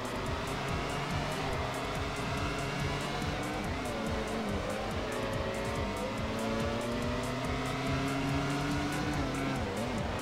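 A race car in the PS2 game Grand Prix Challenge slides through a corner, its engine droning and shifting pitch with drawn-out tire squeal, loud and continuous for about ten seconds without talking.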